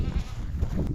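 Goats on a hot, humid farm bleat in a steady, close, continuous chorus of low, throaty cries that fill the whole moment without any talk.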